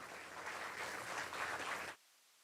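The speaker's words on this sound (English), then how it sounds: "Requires a big round of applause to T.V." An audience at a university convocation ceremony applauds in a dense, sustained burst of clapping for about two seconds, then stops abruptly into near silence.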